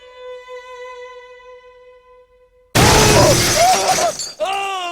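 Glass shatters suddenly and loudly after a steady held tone, with a burst of crashing and tinkling shards, then a voice begins speaking over the fading debris.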